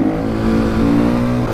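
A KTM 500 EXC supermoto engine revs hard and close as the bike accelerates through the gears, giving a loud, steady, buzzing drone with no talk over it.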